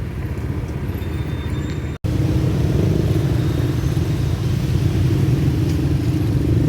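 Motorcycles and traffic rumble past along a roadside in the aftermath of a typhoon, a steady, fairly close engine drone broken by one brief cut.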